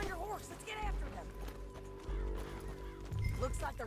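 Hooves clip-clop in a quick galloping rhythm over an ambient soundscape in the video game Red Dead Redemption 2, with a voice speaking over the top.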